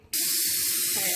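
Cold water pours steadily into a kitchen sink, a loud continuous hissing spray that starts abruptly and runs on without pause.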